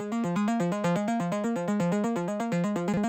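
A bright synth arpeggio cycling rapidly through repeating notes in a steady, even rhythm, loud and alone with no voices.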